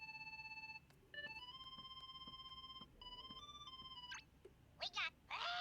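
The gummy phone in the video game Kingdom Hearts 3 rings with bright electronic tones in several sustained, stepped notes and short pauses, followed by brief chirpy bursts and a voice.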